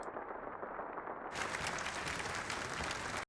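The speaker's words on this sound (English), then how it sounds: "Just the exit with the clapping." Clapping accompanies a character's exit in a TV drama, a dense run of applause-like patter that grows louder and brighter partway through before cutting off abruptly.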